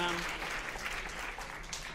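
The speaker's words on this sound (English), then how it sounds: "let's give a round of applause for Tech Crew" Audience applause for a school tech crew at a Writers Week speaker event, a steady wash of clapping from a large crowd that starts right after an amplified voice and continues for the full two seconds.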